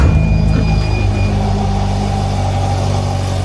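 A Polaris RZR Pro R running with a homemade exhaust idles loud and close, a deep steady rumble with a slight blip at the start and no talking.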